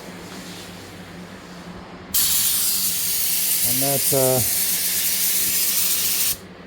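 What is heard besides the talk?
spray gun spraying primer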